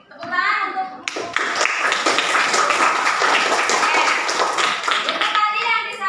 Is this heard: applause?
yes